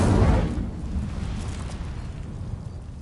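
An Incendio fire spell cast in Hogwarts Legacy: a burst of fiery whoosh at the start that decays into a low rumbling crackle, moderately loud and then fading.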